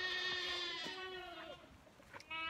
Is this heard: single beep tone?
no